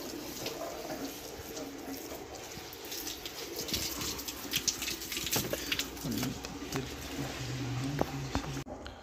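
Water runs steadily from a tap while a cloth is washed and scrubbed, with splashing and squishing over the flow and faint voices in the background.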